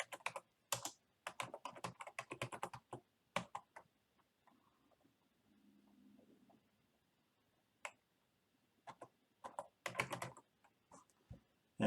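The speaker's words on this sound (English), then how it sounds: "I can type in the email address at my domain name" Someone types an email address on a computer keyboard in quick close bursts of key clicks, breaking off into a quiet stretch before a second flurry of typing.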